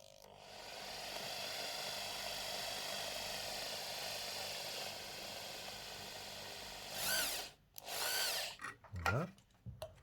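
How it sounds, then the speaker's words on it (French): A small drill bores a hole through the side of a PS5 controller shell, a faint steady whir that then surges in a few short louder bursts near the end. "Percer un côté"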